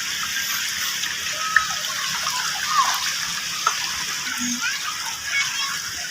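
Water flowing and gushing through a flooded maize field, a steady close rush with small splashes scattered through it.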